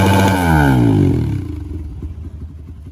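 Kawasaki KLX 207cc trail motorcycle engine revs loud and close, its pitch climbing then falling back into a rough, uneven idle burble, with no talking.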